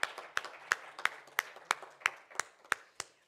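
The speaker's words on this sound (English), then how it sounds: "I think this calls in for a huge round of applause." Workshop audience at a fintech festival claps in a steady, evenly spaced rhythm, about ten sharp claps in a few seconds, sounding like one or a few people nearby rather than a full room.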